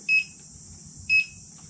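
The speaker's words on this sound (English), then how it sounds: "3 beeps, no problem." A Gotway MCM5 electric unicycle gives two short, bright electronic beeps about a second apart, clear and close over a quiet, faint background rumble.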